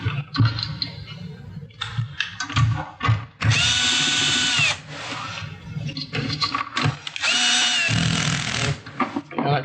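A Milwaukee cordless drill driver with an adjustable clutch runs in repeated bursts, its motor whirring loud and close between short pauses and handling noise.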